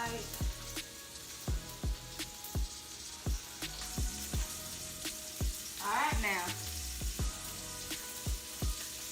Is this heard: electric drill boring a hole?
no